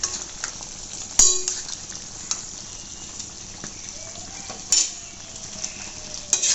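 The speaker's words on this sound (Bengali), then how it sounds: "আমি এ পর্যায়ে দিয়ে দেবো 1 চামচ ঘি।" Beef kala bhuna cooks in a pot as a spoonful of ghee goes in, with a soft steady sizzle under occasional sharp spoon clanks against the pot and quiet stirring.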